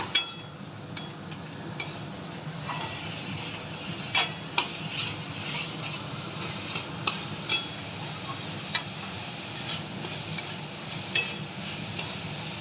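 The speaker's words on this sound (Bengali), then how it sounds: "গুঁড়ো অ্যাড করা হয়ে গেছে, আমি এবার এটাকে ভালো করে নাড়াচাড়ানো করে নেব" Frying food with turmeric powder is stirred in a pan, a spoon scraping and clinking against the metal in regular sharp taps over a faint, soft sizzle, with no talking.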